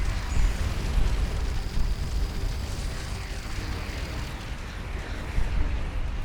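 Rumbling, continuous missile explosions in the space game Starcom Nexus, a dense low roar of blasts and bursts with no talking.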